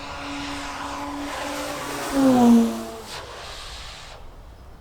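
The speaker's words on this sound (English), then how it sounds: "So we'll do another one of those high-speed passes," A Hangar 9 OV-10 Bronco 30cc RC model plane making a high-speed pass, its gas engine rising to a loud, pitch-dropping whine as it sweeps close by, then fading off into the distance.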